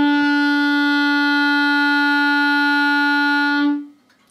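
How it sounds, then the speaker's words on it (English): A single steady clarinet note held for several seconds, loud and clear with rich overtones, then stopping abruptly. "I'll blow you a note so you can hear what it sounds like."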